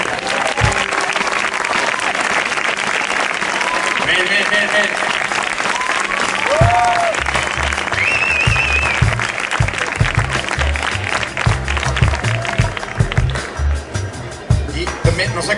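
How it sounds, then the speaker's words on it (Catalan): A festival audience at a town proclamation event in Manacor claps loudly and continuously in a dense, close burst, with scattered whoops and a voice speaking briefly over the applause. "vos demanaria un fort aplaudiment"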